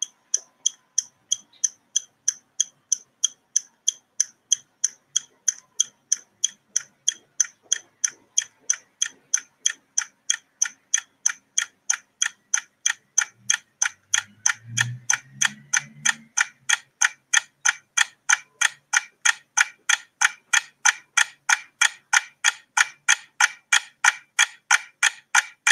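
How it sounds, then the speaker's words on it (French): A clock ticks steadily in film sound design, each crisp tick evenly spaced and growing slightly denser and louder over time, with a brief low thud midway and no voices. "Donc le même tic-tac, par contre une autre mise en scène sonore, plus inquiétante, plus avec un suspense qui monte"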